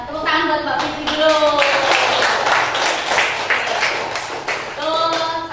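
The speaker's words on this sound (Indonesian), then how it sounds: "tepuk tangan buat Mbak Fitri dulu" A classroom of students claps together, a brisk burst of many hands lasting several seconds, with voices talking over the start and end.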